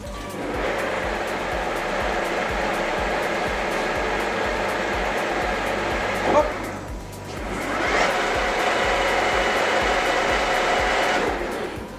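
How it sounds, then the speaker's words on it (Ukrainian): A metal lathe runs during thread cutting, giving a steady mechanical whir and rumble. It dips briefly around the middle, then resumes at a similar level. "Включаємо станок."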